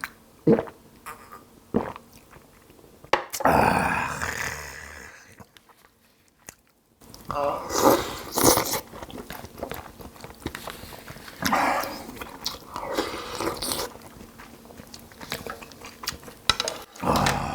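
Someone eats seaweed soup with plenty of garlic, made with kelp stock and seasoned with sand lance fish sauce, alongside soju. Close, intermittent chewing and slurping sounds come with soft clinks, and there are short quiet pauses.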